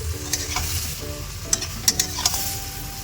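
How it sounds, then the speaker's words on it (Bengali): Cauliflower tossed with spices in a frying pan for a fish curry, giving a steady sizzle under repeated scraping stirs and a few sharp utensil clicks against the pan, close by with no talk. "মশলার সাথে ফুলকপিটাকে মিশিয়ে নিই"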